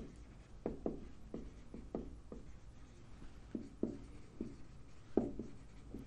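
A pen or marker writes on paper during a physics lesson, making a series of quiet, close scratchy strokes and taps at an irregular pace, with no talking.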